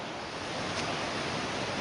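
Eora Creek on the Kokoda Trail rushing nearby, a steady broad wash of flowing water that stays loud and continuous with no voices.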